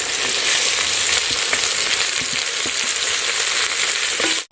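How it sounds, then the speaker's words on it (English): Onions sizzle loudly and steadily in a hot pan for a traditional village meal, with occasional stirring scrapes and a brief clatter at the end as tomatoes and pepper go in. "when they're starting to turn golden brown, that's when I add in the tomatoes and the pepper"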